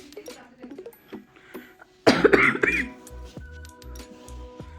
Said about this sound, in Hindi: मुझे हो गई खांसी